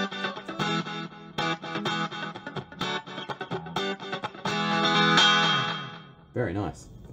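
Distorted electric guitar chords through a Fender Mustang Mini amplifier's oversaturated delay strum in quick bursts, each smeared by repeating echoes, ending with a short spoken remark.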